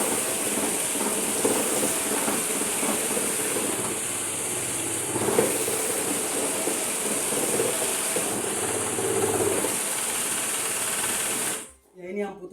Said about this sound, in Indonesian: Jadi mesin ini ada dua putaran ya, ada ke kanan dan ke kiri.